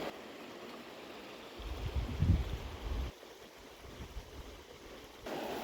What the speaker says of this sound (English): we've got this beautiful river which I think is the River Calder